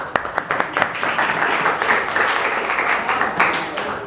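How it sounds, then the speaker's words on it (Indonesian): A small group claps briefly, with scattered claps at first building into light, short applause nearby. "tepuk tangan."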